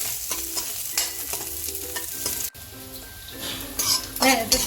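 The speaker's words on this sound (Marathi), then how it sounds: "तेल टाकले आहे आणि आता हा कांदा छान परतवून घ्यायचा आहे" Onion sautéing in hot oil in a pan, with steady close sizzling under repeated scraping stirring strokes that keep a loose rhythm throughout and grow louder near the end.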